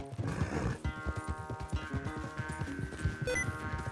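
A horse gallops in Red Dead Redemption 2, with rhythmic clip-clop hoofbeats close up, a whinny, and game music underneath.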